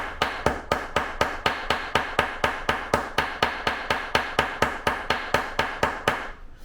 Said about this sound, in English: And then I flip the hammer over. I use the rounded side to just kind of mushroom it over